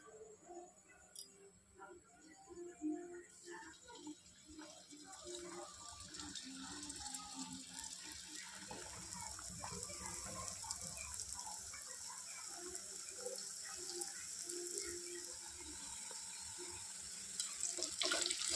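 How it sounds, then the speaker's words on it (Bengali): Nimki dough snacks fry in hot oil in a home kitchen, a faint bubbling hiss that builds and settles into a steady, continuous sizzle. "এবার অল্প অল্প করে তেলে দিয়ে দিয়ে আমি ভেজে নেবো।"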